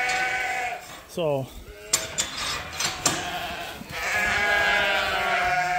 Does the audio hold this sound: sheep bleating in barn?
yes